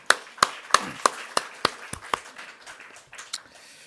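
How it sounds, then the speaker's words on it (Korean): A church congregation claps in sharp, evenly spaced beats that loosen and fade over a few seconds, fairly close and moderately loud, with no talking. "박수 한번 할까요?"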